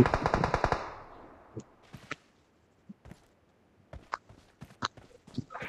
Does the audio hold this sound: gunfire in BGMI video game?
yes